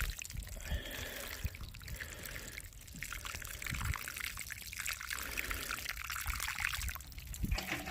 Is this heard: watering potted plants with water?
yes